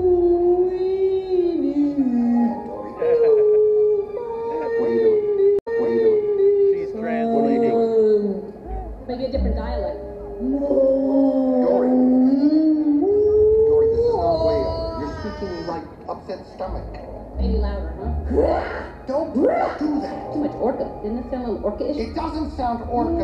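A voice imitates whale calls, drawing out long, warbling moans and rising and falling wails close up, with some talking mixed in.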